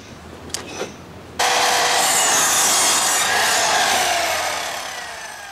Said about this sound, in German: An der Säge schneiden der Schultes und Rainer Knieps die Latten für den nächsten Arbeitsgang auf eine Länge